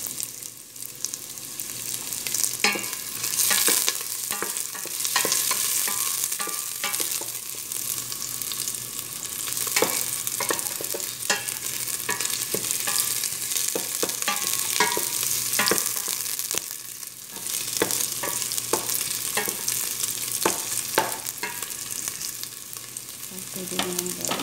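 Onions fry in hot oil for chicken maqluba, giving a loud, continuous sizzle. Frequent close spatula scrapes and clatters run through it as the onions are stirred, with no talking.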